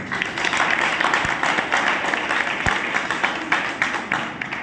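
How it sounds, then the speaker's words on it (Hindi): Audience applause at a gathering, a full room of hands clapping steadily and loudly for several seconds, with a few sharper individual claps standing out. "एक जोरदार ताली अपनी प्यारी सी टीम के लिए चाहूंगा"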